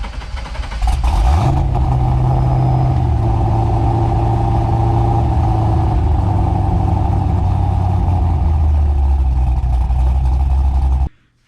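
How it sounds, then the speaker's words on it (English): A supercharged Corvette C5 with an LS engine fires up and settles into a loud, steady exhaust rumble that holds close and even for about ten seconds before it cuts off abruptly. "I don't want to necessarily wake them up every single time I start the car, but it is somewhat notable of an exhaust."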